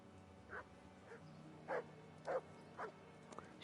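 A dog in Kingdom Come: Deliverance gives five short, spaced barks and yips at moderate distance over a low ambient hum, fairly faint overall.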